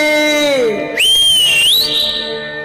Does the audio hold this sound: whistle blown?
yes